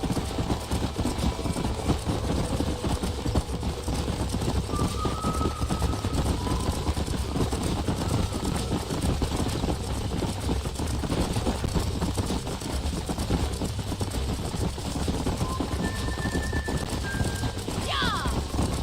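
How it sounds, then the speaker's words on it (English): Horses in the Red Dead Redemption video game, a continuous rumble of hooves and movement with faint game sounds and brief whinny-like tones, steady and moderately loud throughout. "These are fine horses."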